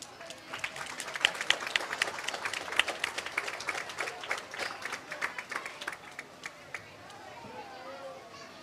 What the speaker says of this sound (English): nice big round of applause for Jaden Byers-Krantz.